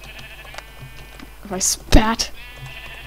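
A sheep in Minecraft gives a single wavering bleat, close and fairly loud, while a person speaks briefly around it.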